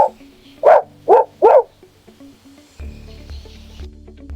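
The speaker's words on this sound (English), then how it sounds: "This is a dog." A dog barks four times in quick succession, loud and close, the sharp yaps bunched together before a low hum carries on in the background.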